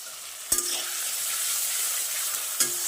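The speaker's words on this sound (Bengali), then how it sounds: "পেঁয়াজটা আমি পুরো বেরেস্তার মতো করে ভাজবো" Sliced onions fry in hot oil until crisp, a steady close sizzle running throughout, broken by two sharp clanks of a utensil stirring the pan.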